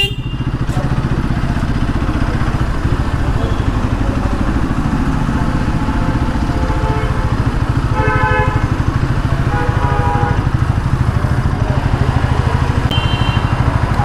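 Several motorcycles idle in a queue at a bike service centre, a steady, close, continuous engine rumble lasting throughout with no talking.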